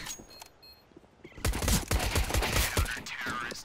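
Quiet stretch, then a loud, close burst of rapid rifle fire in Counter-Strike on a wingman map, continuing in a dense volley to the end.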